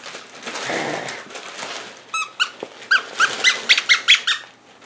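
A dog plays with a squeaky chew toy at a Christmas gift opening, first snuffling and growling, then squeezing out a rapid run of loud, close squeaks.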